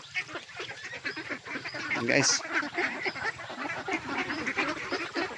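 A flock of domestic ducks in a pen quacks and honks continuously nearby, with a person talking over the noisy birds.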